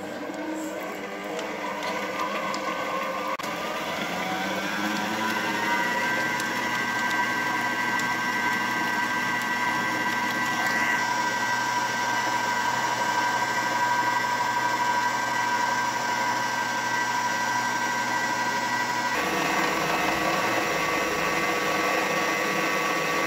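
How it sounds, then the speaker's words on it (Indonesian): Electric hand mixer beating coconut chocolate cookie dough, a steady whirring motor drone that holds for over twenty seconds with a slight shift in pitch and a change near the end. "Oke, sekarang kita akan mengocok adonan"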